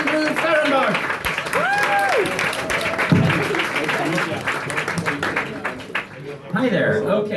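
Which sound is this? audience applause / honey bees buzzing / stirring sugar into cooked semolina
audience applause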